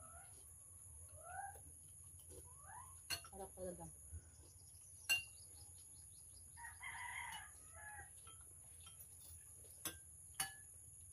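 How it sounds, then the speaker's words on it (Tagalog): Faint, distant chicken clucks and a brief rooster call over a low steady hum, with a few sharp ticks and a short spoken phrase. "May manok dagan eh."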